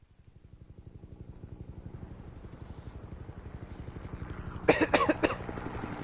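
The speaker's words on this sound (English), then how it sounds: "I'm coughing a lot" Several harsh, close coughs from one person come in a quick burst of three or four over a steady rumbling motor-like drone from game audio.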